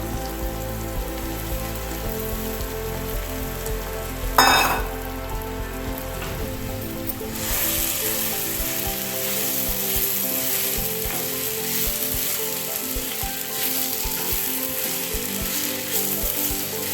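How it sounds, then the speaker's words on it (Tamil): Wheat rava stirs and fries in hot oil, a dense close sizzle with scraping stirs and a sharp loud burst of crackle partway through, continuing steadily without speech. "இப்போ நம்ம ரவையை போட்டு இந்த எண்ணெயிலே கொஞ்சம் கிளறிக்கலாம்"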